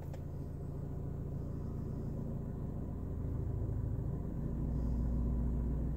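A low, steady engine rumble from an idling Mercedes CLA 45 close by, its deep hum swelling slightly toward the end with no voices.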